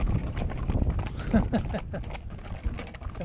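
Hooves of a mixed four-in-hand of young green ponies walking on a slack rein, a steady clip-clop with someone speaking over it.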